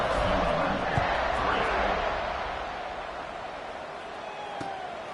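A stadium crowd in the NCAA 26 college football video game roars in a broad, steady swell, loud at first and then easing, while a commentator talks over it.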